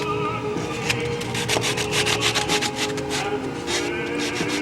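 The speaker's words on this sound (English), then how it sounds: "I can take any of my rough sanding blocks" A rough sanding block rubs back and forth across wood on a Novanta RJ90 cowl in quick, rhythmic strokes, loud and close, with a gritty scratching texture.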